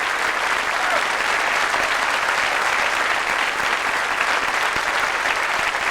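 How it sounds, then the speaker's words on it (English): Dense, steady audience applause at a live stand-up comedy show, a loud continuous wash of many hands clapping at once that holds the same level throughout, with faint crowd murmur beneath. "My Pamela down there, Pam St Clemens, give her a nice round of applause"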